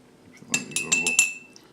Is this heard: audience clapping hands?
no